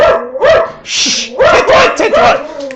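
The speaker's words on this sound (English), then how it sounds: "Stop barking!" A dog barks rapidly and close up, several sharp yaps in quick succession with a brief breathy snort between them.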